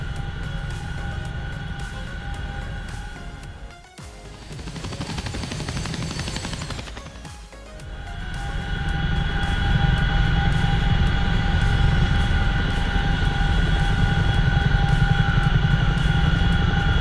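A CH-47F Chinook helicopter in a video game takes off down a runway, its thudding rotors and engine drone building in loudness, with a brief dip before the rumble swells and holds steady.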